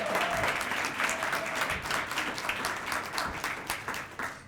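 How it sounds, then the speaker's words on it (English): Crowd applause for the Mooseheads junior hockey team at a Halifax commuter challenge launch, steady dense clapping from a sizeable audience that carries on evenly at moderate distance. "How about a round of applause for the Mooseheads?"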